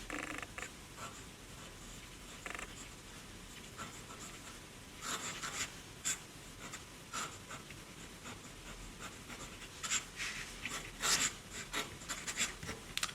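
An Aurora Optima Flex limited edition fountain pen moves across paper, giving faint, scratchy strokes that come in irregular bursts. The sound is quiet and close, with no talking.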